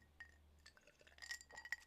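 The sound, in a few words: glasses clinking in a cheers with morning water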